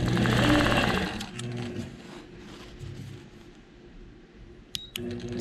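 A quilting machine stitches a memory quilt, its steady mechanical hum loudest at the start and then running on more quietly with a couple of sharp clicks near the end.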